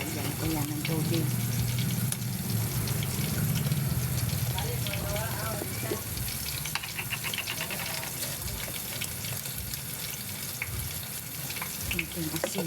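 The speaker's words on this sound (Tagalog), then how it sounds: "Lagyan ko yan ng tubig." Water is poured into a pan of fish paksiw already dosed with vinegar, a rushing, bubbling fill for several seconds that then tapers into lighter splashes and kitchen clatter, with a voice briefly audible.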